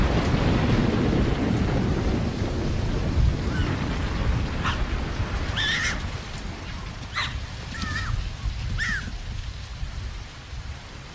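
A Sahara thunderstorm pours down as steady, heavy rain with a dense wash of hiss that slowly eases, while a few short high animal calls sound faintly in the middle.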